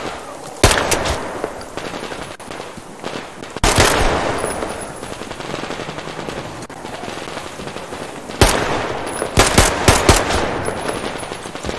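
Gunfire in the video game Metro Exodus: loud, sharp bursts of shots come in separate clusters over a steady background of game ambience, with no talking.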